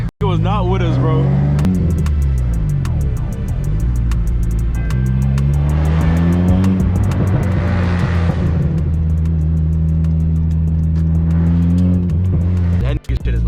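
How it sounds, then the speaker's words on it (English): A 2008 Accord's engine revs hard and loud at a late-night highway car meet, its pitch sweeping up and down in repeated climbs close by, with voices chattering over it. "That shit sounds like a Mustang."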